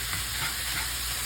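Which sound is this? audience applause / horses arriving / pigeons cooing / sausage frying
sausage frying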